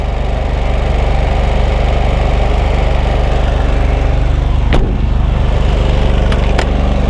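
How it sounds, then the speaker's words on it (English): An Onan 7K generator runs on a 2018 Newmar Canyon Star RV, a loud, steady, close engine drone with an even rumbling hum throughout and a couple of faint clicks, with no voices. "Well, there's that generator we've been talking about."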